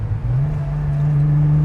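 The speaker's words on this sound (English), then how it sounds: "Didn't get that heel toe or rev match right, but we'll try that again." Air-cooled Porsche 911 3.2 engine with a trick exhaust, revving hard during a heel-toe downshift, a loud, close, steady droning growl that holds through the moment.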